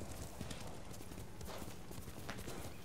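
Horse hooves clip-clop steadily and close in Ghost of Tsushima, a continuous rhythmic patter over constant wind and ambient game noise, with no one talking.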